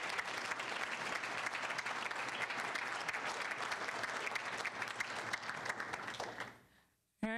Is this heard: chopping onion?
no